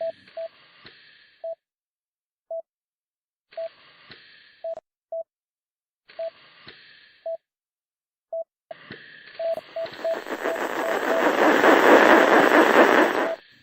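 Neural crackle from a brain recording probe in a medical simulation game, heard as sparse, regular clicking bursts that quicken and swell into a loud, dense hiss as the probe moves deeper toward the subthalamic nucleus.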